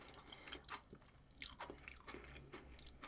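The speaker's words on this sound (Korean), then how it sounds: "토마토 씹는 소리 대박" Close, wet chewing of fresh tomato, irregular squishy bites and crunches repeating, fairly quiet, with no talking.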